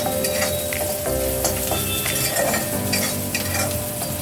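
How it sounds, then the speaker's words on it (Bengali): Onions frying in hot oil for Kolkata-style egg chops, a dense loud sizzle heard close up with occasional light scrapes and clinks from a stirring utensil, no voices. "পেঁয়াজটি হালকা ভাজা হয়ে গেছে"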